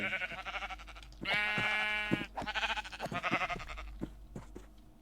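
Minecraft sheep bleat repeatedly, one long wavering bleat followed by several shorter ones, close and clear over a low steady background hum.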